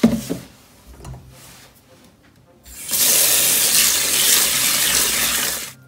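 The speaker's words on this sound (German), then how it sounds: "Ich empfehle euch, Reis zu waschen." Tap water gushes steadily into a sink to wash basmati rice, starting after a few seconds of quieter handling sounds and then running loud and continuous to the end.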